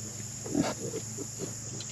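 Farm pigs grunt and snort close by in a short series of low, uneven calls over a steady background hum.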